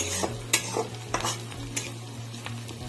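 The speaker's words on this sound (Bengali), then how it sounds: "কয়টা কালো তিল দিয়ে দিলাম এর মধ্যে জিরাটা তিলটা ফোটা অব্দি অপেক্ষা করবো" Whole cumin and black sesame seeds crackle and splutter in hot oil in a pan, with a steady close sizzle broken by sharp pops and a few stirring scrapes, no voices.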